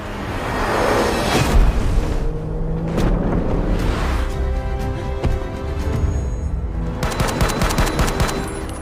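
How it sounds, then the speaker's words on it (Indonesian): Gunfire in a film, with bursts of rapid machine-gun shots and single loud cracks spread across the scene, ending in a dense fusillade, amid whooshes and engine rumble. "ternyata Joe diketahui oleh Lovdah yang berniat untuk menembak Joe"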